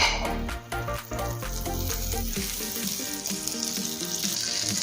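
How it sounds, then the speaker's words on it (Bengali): Butter sizzles on a hot tawa for pav bhaji, a continuous close hiss and crackle partly under background music. "তাওয়ার মধ্যে দেবো বাটার।"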